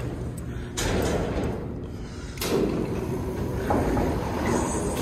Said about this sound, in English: Let's open up the doors.